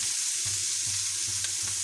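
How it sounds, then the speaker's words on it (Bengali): Small fish fry lightly in a pan over low heat, a steady soft sizzle running throughout with a rhythmic low scraping of stirring repeating about every half second. "আমার মাছগুলো এই যે হালকা ভাজা, শুধু কাঁচা ভাবটা দূর করছি"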